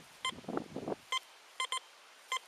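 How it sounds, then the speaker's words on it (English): A metal detector sweeping over a coin target during a coin-spill hunt at a state park sounds short, clear electronic beeps, single tones followed by a quick double beep and another single. A faint rustle comes early on. "Now you hear that two beeps coming back through?"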